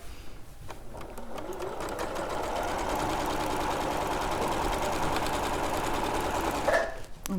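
A sewing machine joins fabric rectangles in a long, steady run of fast needle chatter and motor whir, close and fairly loud, ending with a brief stop and a few handling knocks.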